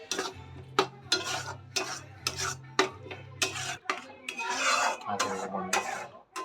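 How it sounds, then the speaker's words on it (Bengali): Raisins being stirred and sautéed in a pan for a fish kalia, with repeated scraping and clinking of a spoon against metal in an uneven rhythm and a low steady hum beneath. "কিশমিশটা দিয়ে আমি ভালো করে একটু কষিয়ে নেব।"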